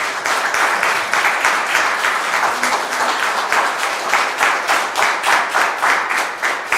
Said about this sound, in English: can we please give the governor and MPC members a big round of applause?